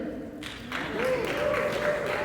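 A brief burst of clapping from a crowd at an anime convention booth swells up over background chatter and a voice.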